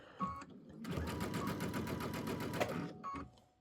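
A sewing machine runs a straight stitch at length 3.5 while a quilt's inner and outer borders are attached, a rapid even mechanical whirring in one sustained burst with brief pauses before and after.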